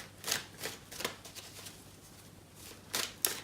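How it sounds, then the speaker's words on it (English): Steampunk Tarot cards shuffled in quick riffling bursts, a handful of crisp papery flutters spaced unevenly, close and fairly quiet against a soft background hiss. "I'll just begin shuffling and see what comes out for you"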